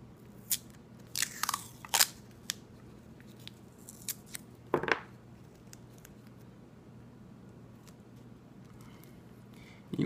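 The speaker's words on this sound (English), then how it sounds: "Now I'm going to take a piece of masking tape and cover that up." Masking tape torn off a roll while covering part of a model rocket's dual-deployment wiring, giving a few short sharp ripping and crackling bursts close by, separated by quiet stretches and soft handling noise.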